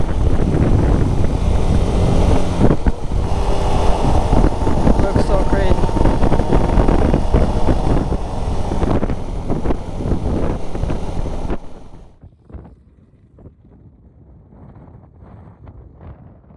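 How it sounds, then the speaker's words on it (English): Strong sandstorm wind roaring and buffeting a microphone on a road in La Guajira, loud and continuous for about twelve seconds, then dropping suddenly to faint gusts. "the wind is just so strong"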